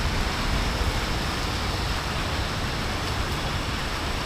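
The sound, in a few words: heavy monsoon rain in Mumbai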